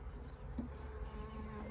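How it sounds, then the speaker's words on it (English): Honey bees buzz steadily around a hive frame as it is handled, a close, continuous droning hum with no talk. "the bees can still move around"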